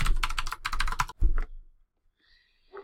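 Rapid bursts of keystrokes on a computer keyboard as a password is entered for a Ubiquiti Cloud Key, a quick clattering run that stops for a second pause, followed by a faint electronic tone and one last soft tap.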